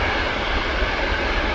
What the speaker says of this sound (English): I saw a plane taxiing out.